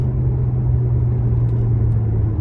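A 2003 Ferrari 360 Spyder's engine fills the cabin on the move, a loud, steady low drone and road rumble with no change in pitch, heard from inside the car without talk.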